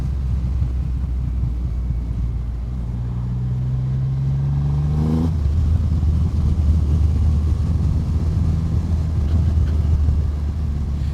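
A 2024 Triumph Rocket 3 GT Storm motorcycle with shaft drive being ridden, its engine rising in pitch as it accelerates through the gears, then settling into a steady cruising drone under wind rumble.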